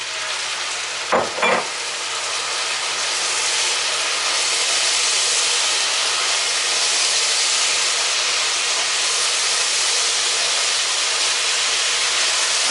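Diced eggplant goes into a hot pan for ratatouille and sizzles steadily throughout, a couple of brief knocks near the start as the pieces drop in, then a constant close frying hiss with no talking.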